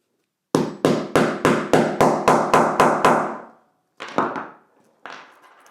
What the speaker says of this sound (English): this right here is the bar that you hammer down